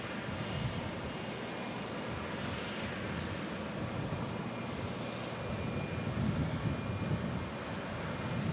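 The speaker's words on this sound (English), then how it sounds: "Looks like a Beechcraft Hawker 400 departing." A Beechcraft Hawker 400 business jet departs Omaha Eppley Field, its engines making a continuous broadband roar at moderate distance that swells a little toward the end.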